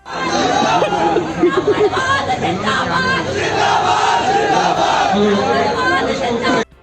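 A group of students at Delhi University chant slogans in unison, a loud, dense crowd roar that carries on steadily with overlapping voices and shouts.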